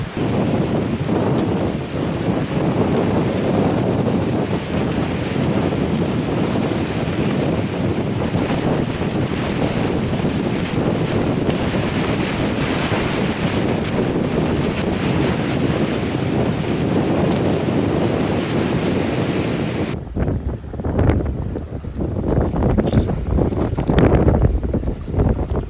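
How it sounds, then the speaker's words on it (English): Strong wind roars and buffets the microphone in a constant rush, turning choppy and gusty near the end, with no voices. "it is incredibly windy today"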